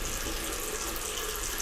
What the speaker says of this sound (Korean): 그 후로도 화장실 물소리는 계속됐고